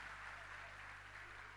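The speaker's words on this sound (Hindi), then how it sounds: "हम सभी को एक बार फिर से बच्चों के इस प्रयास के लिए तालियां बजानी चाहिए" An audience claps for a children's performance, a continuous, even wash of applause at moderate distance with no clear individual claps standing out.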